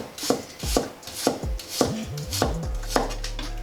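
A kitchen knife chops fresh ginger on a cutting board for water-boiled fish, with about seven sharp, evenly spaced close-up strikes that end in a low steady hum.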